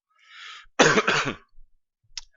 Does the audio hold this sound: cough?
yes